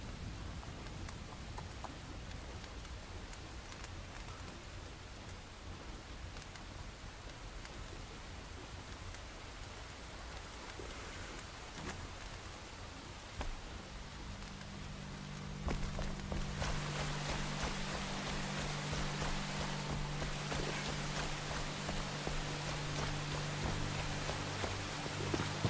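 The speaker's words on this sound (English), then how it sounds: "See if the rain will clear up" Steady rainfall in the video game Enshrouded, a continuous hiss that grows noticeably heavier and louder partway through, with no talking.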